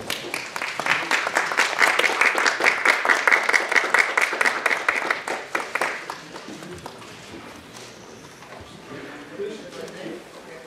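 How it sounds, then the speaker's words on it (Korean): Audience at a Seoul Philharmonic ambassador appointment ceremony and press conference applauding to welcome arriving guests, steady loud clapping for about six seconds before it thins out and fades into quieter room noise. "여러분 큰 박수로 환영해 주시면 대단히 감사하겠습니다."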